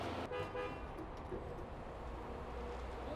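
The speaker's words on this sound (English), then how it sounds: "That beeping, when you hear that, that that's the pump truck beeping." A few short electronic beeps from a concrete pump truck sound over a low engine rumble, brief and somewhat distant, at a house foundation site.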